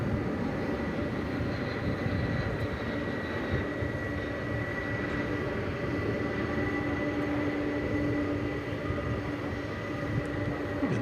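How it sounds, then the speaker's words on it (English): American Airlines flight from Seattle arriving at DFW Airport at night, a steady loud jet engine roar with a constant drone and faint whine, heard from a distance with no talking. "What it's waiting for here is for American Flight 1992 to come in from Seattle, which is just about to arrive."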